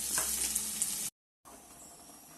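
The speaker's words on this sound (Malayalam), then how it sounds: "എണ്ണ ചൂടായി നമുക്ക് ഇഞ്ചി വെളുത്തുള്ളി ചതച്ചത് ഇട്ട് കൊടുക്കാം" Crushed ginger and garlic fry in hot oil in a pan, giving a loud, dense sizzle that is cut off briefly by a short silence and then resumes as a steadier, quieter crackle.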